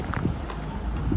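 Rough, gusty wind buffeting the microphone on a hike at Cathedral Rock in Sedona, Arizona, a low continuous rumble over a short stretch with no speech.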